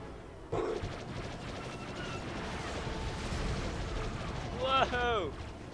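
A ship is blasted down in Star Wars Battlefront 2 amid heavy rocket and flak fire, a sudden loud burst followed by continuous rumbling combat noise and a whining sweep near the end, with people talking over it.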